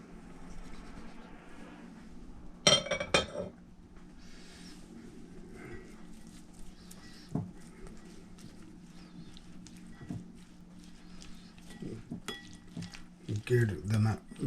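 Salt, black pepper and red chili pepper being blended with a utensil in a bowl, heard as scattered clinks and scrapes of metal against dish, close and quiet, with intermittent speech over it.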